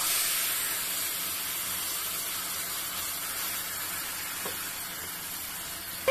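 Mustard paste hits a hot pan for a Bengali pabda fish curry, giving a steady, fairly soft bright sizzle and hiss that holds evenly throughout, with a small clatter near the end.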